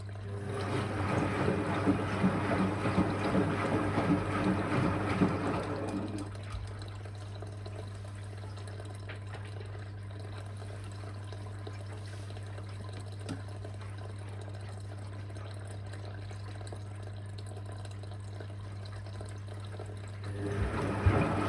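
A Whirlpool AWG329 washer dryer filling with water: a loud rushing flow over a steady mains hum for about six seconds, then a quieter trickling hiss with faint clicks before the rush returns at the end.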